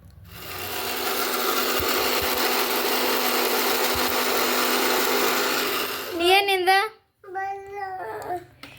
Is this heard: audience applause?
no